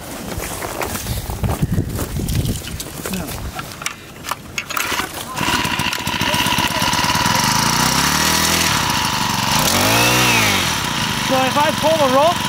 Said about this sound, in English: That speeds up the motor, which makes it go.